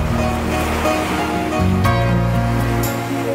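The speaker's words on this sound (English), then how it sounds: "The calm sound of the waves is like medicine for the soul" Ocean waves wash steadily onto the shore of Rhodes in a continuous, fairly loud surf wash, with a faint tonal backing layered over it.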